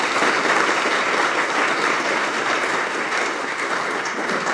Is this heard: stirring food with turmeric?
no